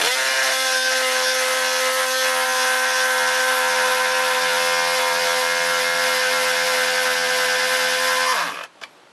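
An electric grinding stone sharpening a chainsaw chain gives a steady, loud, high-pitched whine that holds for about eight seconds, then winds down and stops.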